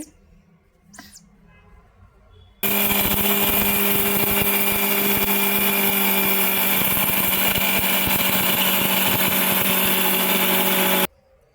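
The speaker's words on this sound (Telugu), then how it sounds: "మిక్సీ పట్టేసుకుందామండి" An electric mixer grinder grinds urad dal for appadalu. After a short quiet start with a faint tap, the loud steady motor whine and rattling churn run for about eight seconds, then stop abruptly.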